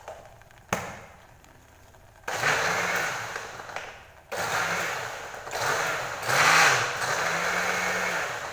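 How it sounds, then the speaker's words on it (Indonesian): A blender grinds onions in a small boarding-house kitchen, its motor whirring loudly in several bursts after a quiet start, with the pitch rising and dipping as the load shifts. "Kita blender lagi."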